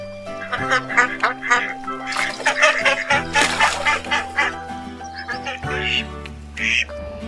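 A duck quacks repeatedly in quick, nasal bursts, close and loud, with a sung children's rhyme track and music playing underneath throughout.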